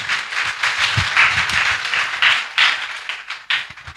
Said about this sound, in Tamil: எல்லோரும் கைத்தட்டலுடன்.